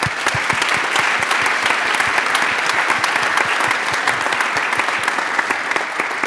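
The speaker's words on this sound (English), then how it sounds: "big applause to everybody here" Loud, sustained applause from a large crowd at a tech conference panel, dense clapping throughout with no gaps and no talking.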